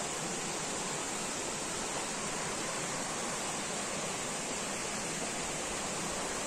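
Spring water pours in a dense, unbroken hiss, steady and close for the whole stretch with no change in level and no voices.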